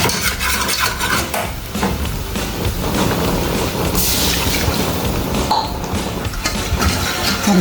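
A ladle keeps stirring and scraping food in a pan, making continuous close, fairly loud rasping and clinking strokes over a faint sizzle, with no voices.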